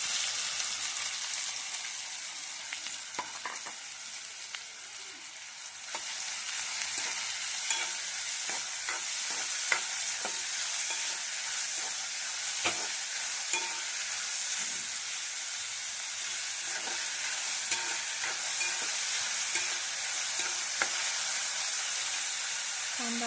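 Onion frying in heated oil, a continuous loud sizzle with stirring scrapes and clicks, alone without talk.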